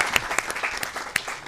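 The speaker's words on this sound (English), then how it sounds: "may I request one more round of applause?" A studio audience claps for a playback singer after an hour-long performance, dense close applause with a few sharp individual claps standing out, loud and sustained.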